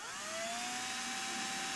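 Power drill enlarging a bolt hole in a carbon fiber widebody rear quarter panel for a C6 Corvette, a steady high-pitched whine that rises briefly and then holds at constant speed, close and loud, with no talk.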